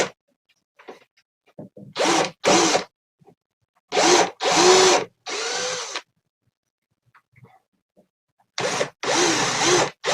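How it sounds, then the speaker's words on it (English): A power drill whirs in short bursts while repairing an old wooden shelf, several high revving runs separated by silence, close and loud, biting into wood. "Stupid drill bit."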